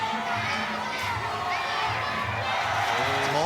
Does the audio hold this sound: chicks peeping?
no